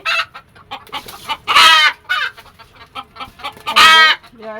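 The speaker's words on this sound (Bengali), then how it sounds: "এই মোরগটা মোরগটা দেখা মোরগটা মাসাল্লাহ অনেক সুন্দর ডাকে" Chickens on a rooftop poultry farm cluck in close, uneven bursts, while a rooster crows loudly twice, the long ringing calls cutting through the nearby clucking.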